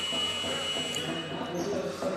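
A basketball shot clock buzzer sounds during an NBL1 game between Reading Rockets and Worthing Thunder, a steady electronic tone held for about two seconds over arena crowd noise and commentary.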